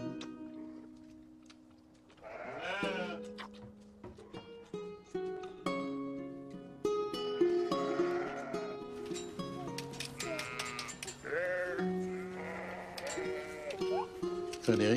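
Sheep bleat repeatedly on a farm in rural Quebec, with wavering cries overlapping one another at moderate loudness, some near and some farther off, accompanied by light background noise throughout.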